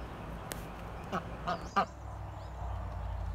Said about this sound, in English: is a Swedish black duck